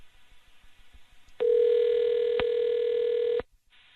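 Telephone call dialing, with a few faint clicks and then a single loud, steady two-second ringback tone that cuts off abruptly, heard alone.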